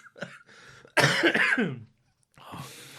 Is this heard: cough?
yes